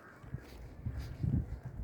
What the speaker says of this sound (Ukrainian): Потім ворони зверху радуються, літаючи.